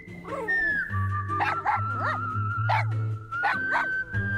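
A dog barks and yips repeatedly in a radio advertisement, the sharp barks spaced through the clip over a steady low musical or tonal bed, fairly loud and close.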